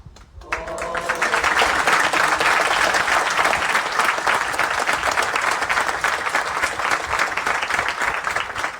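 A theatre audience in a hall breaks into loud, sustained applause that swells quickly and holds as a dense, even roar of clapping.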